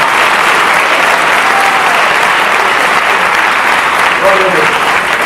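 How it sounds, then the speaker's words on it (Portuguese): A church congregation bursts into loud, sustained applause, a dense unbroken wash of many hands clapping that fills the room throughout. "Se você pode aplaudir a este Deus, aplauda com força, com toda a sua alma e com todo o seu coração."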